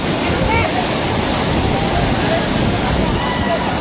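Loud, steady roar of rushing water fills the scene without a break, a powerful waterfall heard from close range.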